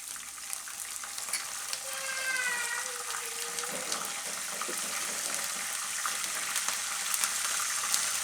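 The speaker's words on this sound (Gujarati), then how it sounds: "તો હવે એમાં આપણે નાખીશું લીમડાના પાન." Fresh curry leaves dropped into hot oil with chilies while making suran sabudana khichdi give a steady, close frying sizzle with crackling bursts and stirring, no talking.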